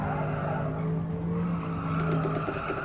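Tires squeal and skid as a car slides through a corner in Gran Turismo Sport, the screech rising over steady engine drone and holding for a couple of seconds.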